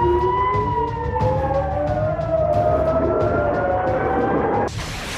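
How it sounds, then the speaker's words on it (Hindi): Air raid sirens wail with slowly rising and falling tones, several overlapping from a distance in northern Israel, before cutting off abruptly near the end. "हवाई हमलों के सायरन बजने लगे थे"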